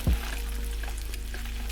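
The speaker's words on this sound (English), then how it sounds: "Now, our fish is going into the pan." A sea bass fillet searing skin side down in a hot pan, with a sharp hiss as it goes in, then a steady, even sizzle.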